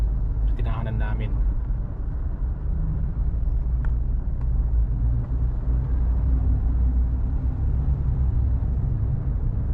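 Steady road traffic on King Abdullah Road heard from inside a moving vehicle, a continuous low rumble of engines and tyres with a brief higher voice-like sound near the start.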